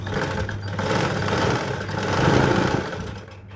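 A sewing machine runs continuously as it stitches a princess-cut blouse with a belt, giving a steady close motor hum and rapid needle chatter that swells and then eases off near the end.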